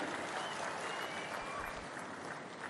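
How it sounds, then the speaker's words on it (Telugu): A crowd at a meeting gives sustained loud applause, dense overlapping clapping that stays even and fairly distant throughout. "గట్టిగా చప్పట్లు కొట్టి అభినందించండి."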